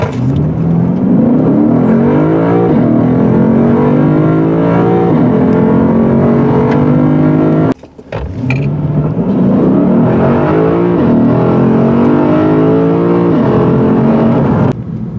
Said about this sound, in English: This is a beautiful V8 engine, one of the best on the planet.